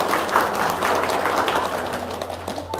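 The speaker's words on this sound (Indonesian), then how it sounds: "Tepuk tangan dulu dong." Indoor audience at a testimonial gathering claps together, a brief burst of fairly loud, dense applause that continues for a few seconds before thinning.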